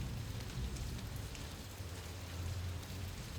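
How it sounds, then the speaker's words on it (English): Steady rain hammers on a roof in a wilderness setting, a dense, even patter with no pauses and no voices over it. "Just rain hammering the roof."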